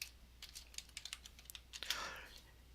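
Typing on a computer keyboard to enter a spreadsheet formula, a quiet run of quick separate key clicks with a slightly louder burst of keystrokes near the end.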